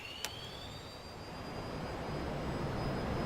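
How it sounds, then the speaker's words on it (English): F-14 Tomcat jet engines spooling up to full throttle in a flight simulator during a carrier takeoff, a steady rising roar with a whining tone that climbs and grows louder. "So we're going to go slowly up to full throttle here."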